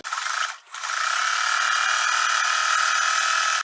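A sewing machine stitches fabric edges together with a loud, steady motorized whir that stops briefly early on, then runs on without a break, close by.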